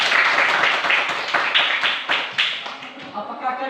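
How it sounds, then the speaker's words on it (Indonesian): A school class claps hands together in a quick, patterned rhythm, sharp near claps in rapid bursts that thin out toward the end, with a voice faintly audible at the close. "Oke, tepuk tangan."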